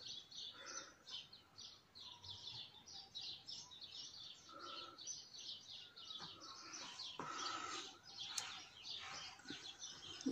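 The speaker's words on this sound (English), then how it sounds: "Oh, the birds. Can you hear the birds?" Songbirds chirp and tweet continuously outdoors, a faint steady chorus of high calls at a distance, with occasional soft talk underneath.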